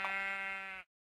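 A single sheep bleat from the game Minecraft, a clear, close, sustained tone lasting under a second and ending abruptly into silence.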